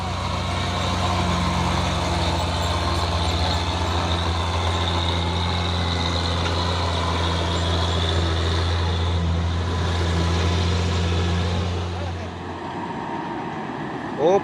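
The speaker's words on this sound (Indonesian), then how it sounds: "Truk tangki Hino Jember Euro 4 menaklukkan tanjakan Bukit Kodok" Heavy diesel drone of a Hino Euro 4 tanker truck labouring up the Bukit Kodok hill, steady and loud for about twelve seconds with a low throbbing hum, then easing off near the end.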